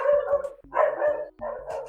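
A dog barks loudly and close by in three long, forceful bursts separated by short pauses, with no talking heard.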